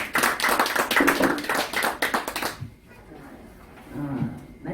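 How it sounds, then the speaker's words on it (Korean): Brief burst of clapping from members at a civic group's anniversary general assembly approving a motion, fairly close and lively for about two and a half seconds, then fading into quiet room tone with a faint voice. "박수로 의결하시는 걸로 하겠습니다"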